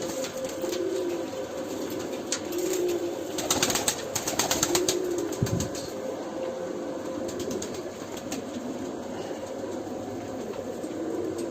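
A coloured Doobaz pigeon is released, giving a brief burst of wing flaps midway against a quiet outdoor background with soft distant tones.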